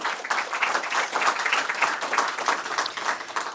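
Audience applause fills a book launch event, a dense, steady wash of many hands clapping for the speakers and panelists, continuous and fairly close throughout with no voices over it.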